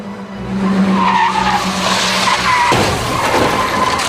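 Several cars skid on a freeway during a multi-vehicle pile-up, tires squealing loudly and continuously for about four seconds, with an abrupt impact-like change partway through and no voices.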